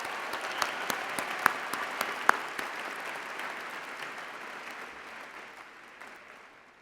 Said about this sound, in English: How about one more round of applause for those who helped get you here today?